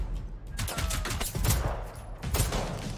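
Enemy gunfire in the video game Generation Zero, heard as a loud, dense burst of rapid shots that swells and fades over a few seconds, with another cluster of shots near the end.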